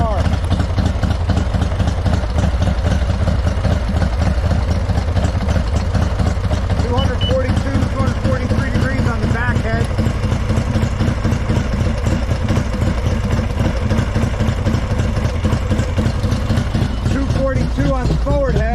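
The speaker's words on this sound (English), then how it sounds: "The bike is still idling." A Harley-Davidson Softail motorcycle engine idles with a steady, loud, continuous low rumble lasting the whole stretch, while a voice talks over it.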